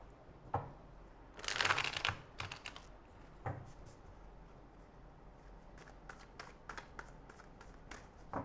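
A deck of tarot cards shuffled by hand, giving a dense riffling burst followed by a run of crisp, evenly spaced card flicks and taps, close and fairly quiet.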